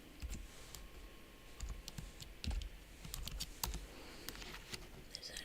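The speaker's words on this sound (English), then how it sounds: "Sorry for the typing and the nails." Typing on a computer keyboard with long nails gives a faint, steady stream of quick clicks and taps, close but quiet, with no talk.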